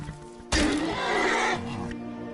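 A horse in Skyrim lets out one loud, close whinny lasting about a second and a half, its pitch wavering, with a quieter snort trailing after it.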